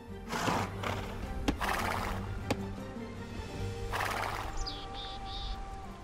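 Horse hooves clop at a steady pace, with a few sharp knocks, and then a horse neighs loudly near the end, from scout cavalry in the video game Age of Empires II.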